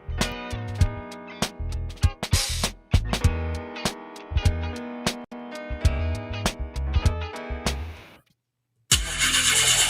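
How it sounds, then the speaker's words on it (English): A car engine cranks again and again in rapid, uneven bursts of starter whine and mechanical clatter without catching, loud and close, before a brief silence and a final burst of noise. "Chaja, I got to get this engine fixed."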